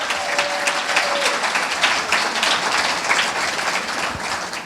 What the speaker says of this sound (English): Big round of applause for our LeGlue team.